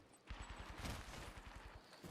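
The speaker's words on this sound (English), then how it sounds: "they're hearing gunshots in the distance" Distant gunfire in the Apex Legends battle royale game: a rapid, steady string of muffled shots rattling off, heard far away rather than up close.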